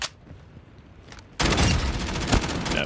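Gunfire in Call of Duty Mobile DMZ, a quiet stretch broken by a sudden loud burst of sustained shooting that continues with rapid overlapping shots through the rest of the moment.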